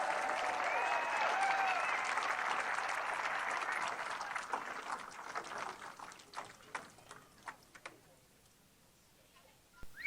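Applause from a crowd in a played recording, dense clapping that thins out into scattered individual claps over about ten seconds.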